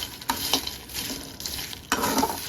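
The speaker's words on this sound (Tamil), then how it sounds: "கடாய் நல்லா சூடானதுக்கப்புறம் இந்த பருப்பெல்லாம் எடுத்து போட்டு வறுத்துக்கலாம்." Wild jackfruit (ayani chakka) seeds dry-roast in a hot kadai over a medium flame, rattling and scraping in a few distinct stirs over a low background hiss.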